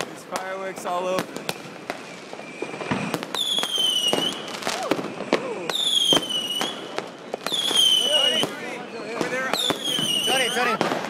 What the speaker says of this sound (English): There's fireworks all over.